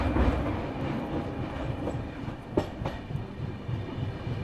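Lucknow–Kathgodam Express rolling slowly toward Shahjahanpur, a steady low rumble of carriages with a few faint wheel clicks and a brief sharp knock, heard from on board.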